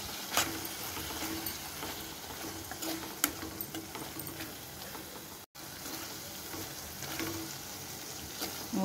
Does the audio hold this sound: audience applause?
no